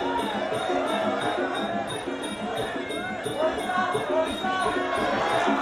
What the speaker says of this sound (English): it's the sound from the crowd, I think.